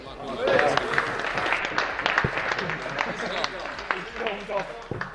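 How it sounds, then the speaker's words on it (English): A room of people applauds a third-place finisher at a racing league results announcement: scattered, uneven clapping with sharp individual claps over murmuring voices and chatter. "Round of applause please for Mark Winwood."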